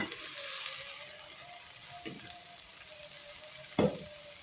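Cowpea and green gram sprouts sizzle steadily in a covered pan, a soft continuous fry with a couple of brief clinks or stirs, the second one louder near the end.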